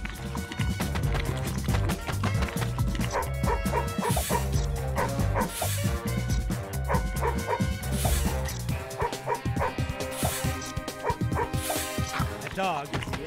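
A dog in the Madagascar Escape 2 Africa video game barks and yips repeatedly, sharp and close, amid dense game music and effects, with voices talking at times.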